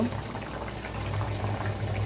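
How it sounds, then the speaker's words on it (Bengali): Fish curry simmers in a pan with fried fish pieces going in, giving a continuous soft bubbling hiss and low gurgle, close and fairly even throughout. "এখন ভাজা মাছগুলো দিয়ে দিব"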